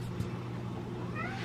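A cat meows at a dinner table, with a drawn-out, rising meow near the end over steady room noise.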